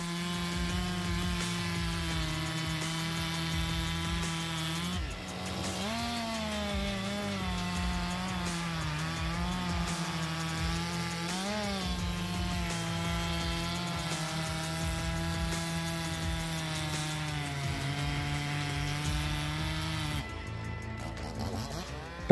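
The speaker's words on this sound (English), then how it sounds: "MS-361 NAS chainsaw boasts a formidable 59cc engine. This powerful machine moves seamlessly through large logs" A Stihl MS-361 chainsaw with a 59cc engine cutting through large logs, a loud sustained engine drone near the mic that holds steady for about twenty seconds, dips briefly once, then cuts off at the end.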